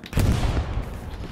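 A single gunshot booms in the World War II shooter Hell Let Loose, a heavy close blast with a rolling low tail that fades over about a second.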